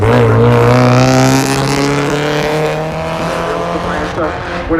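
A historic production sports car howls down the back straight of a racing circuit, its loud engine note holding steady and close at first, then easing slightly as it carries on at speed.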